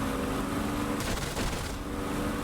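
Aircraft guns fire in DCS World during a high-G dogfight: a brief burst of rapid shots over steady engine drone, loud and close, with no talk.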